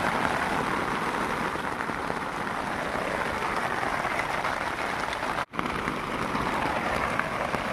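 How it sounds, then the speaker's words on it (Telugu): Heavy rain pours at night over a rooftop camp, a loud, unbroken hiss of drops on the surface that continues without voices, interrupted only by a brief cut. "వర్షం అయితే పడుతూనే ఉంది"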